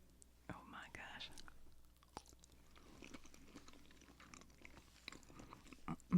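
Quiet close-up chewing of a deviled egg, soft wet mouth sounds and small bites in a whispered, soft-spoken setting, with faint whispering around them.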